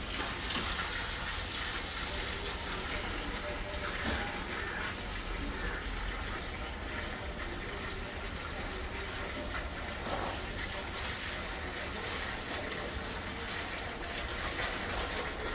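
Water gushes out continuously after a closed valve is opened, a steady broadband rush with no talk.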